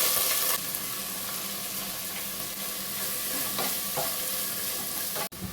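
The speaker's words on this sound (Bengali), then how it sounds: "তেল গরম হলে আগে পেঁয়াজটা দিয়ে দিচ্ছি।" Onions fry in hot mustard oil in a pot for keema pulao, giving a loud, continuous close sizzle with occasional stirring scrapes and a brief knock near the end.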